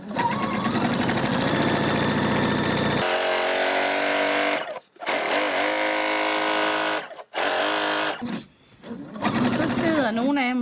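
A sewing machine runs steadily as it stitches a second gathering thread along fabric for baby bloomers, about half a centimetre from the first. The whir is continuous and loud, with brief pauses, and a dense backdrop of other sound plays throughout.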